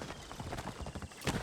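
Horse hooves clip-clop in a quick, steady rhythm in the video game Assassin's Creed Shadows, close and clear with no talk over them.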